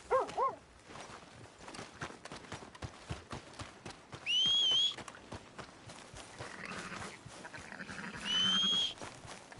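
Hooves of a horse in Red Dead Redemption 2 clop at a steady walking rhythm, close and moderately loud, with two brief high tonal squeals rising above the footfalls.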